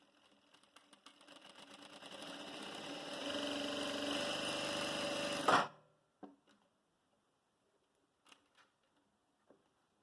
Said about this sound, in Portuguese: Eu vou fazer aqui um pouquinho da costura dela, para vocês conhecerem e ver como que funciona